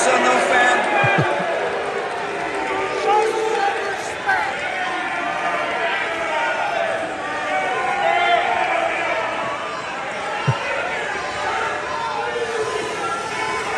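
A large audience boos a speaker loudly and continuously, a dense roar of crowd voices that stays steady throughout with only a few faint knocks underneath.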